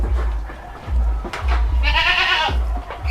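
Several goats and sheep bleat nearby in an enclosed shed on a sheep farm in Maharashtra, a few overlapping calls over low rumbling background noise.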